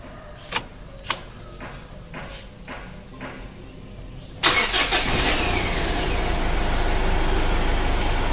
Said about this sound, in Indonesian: Untuk mesinnya sudah hidup.